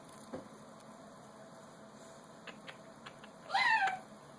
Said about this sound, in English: I think she just meowed at me.